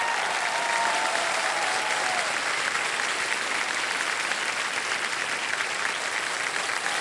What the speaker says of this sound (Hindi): तो ताली बजती रहे इनके लिए।